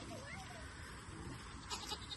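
Farm goats bleating, several wavering calls over a steady outdoor background.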